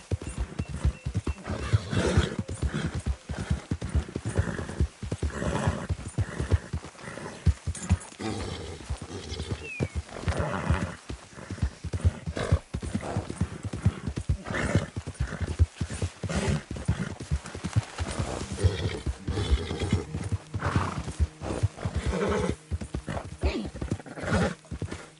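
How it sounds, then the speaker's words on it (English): Horse hooves clip-clop steadily with occasional neighs and whinnies in Red Dead Redemption 2, fairly loud and close, set against a busy game background of other noises. "good-looking horse there"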